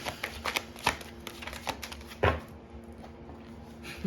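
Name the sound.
shuffling a deck of cards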